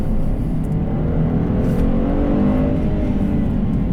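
A Genesis G70 3.3T engine hums at a steady, refined drone with a faint rise in pitch, a smooth, muffled, continuous sound heard from inside the car with no talk.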